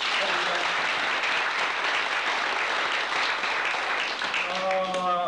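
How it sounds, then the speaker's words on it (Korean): Audience applause for a troupe of singers at a Korean stage event, dense continuous clapping at an even level for several seconds, with a voice starting to speak over it near the end. "우리 이런 꽃다리 자랑스러운 동지들에게 뜨거운 박수 한번"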